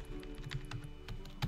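Fairly quiet tapping on a computer keyboard, with irregular keystrokes clicking over a low steady background hum.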